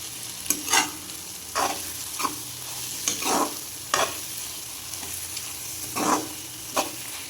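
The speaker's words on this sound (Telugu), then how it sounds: "వీటన్నిటిని మొత్తం ఒకసారి అయితే కలుపుకుంటే" Dried fish pieces being stirred in a frying pan, with intermittent scraping strokes of a spatula over a soft, steady sizzle, close and alone without talk.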